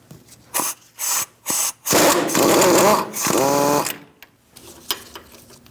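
Short bursts of a power tool spinning a 21mm socket to remove a tie rod nut on a 2008-2014 Mercedes-Benz C300, quick whirring pulses then longer buzzing runs, loud and close with brief pauses.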